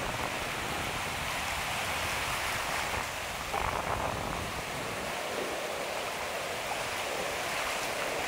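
Ocean waves crash and wash over shoreline rocks in a continuous, loud roar of surf, with no voices.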